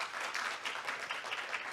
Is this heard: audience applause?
yes